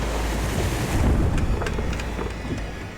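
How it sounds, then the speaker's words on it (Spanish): Huge waves pound against the side of a sailboat at sea, a loud continuous wash and rumble of surf with gusty wind buffeting throughout, no voices. "Las enormes olas están azotando el lateral del barco."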